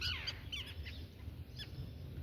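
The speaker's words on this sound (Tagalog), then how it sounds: "Ang daming ibon." Several birds chirp and call outdoors at an oyster-gathering spot after work, with short high calls scattered through the clip over a low steady background rumble; no one speaks.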